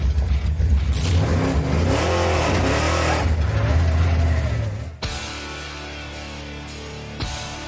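A NASCAR race car engine roars loudly and continuously on the Tours circuit during a European championship round, then cuts to a different, steadier engine drone near the end.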